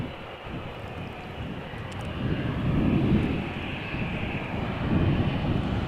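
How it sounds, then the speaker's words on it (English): A Boeing 787-9 Dreamliner arriving at Amsterdam Schiphol Airport gives a broad, steady jet roar that swells louder midway and again near the end, heard at a distance outdoors with no talk. "we have a Dreamliner 7879 arriving from Cartagena"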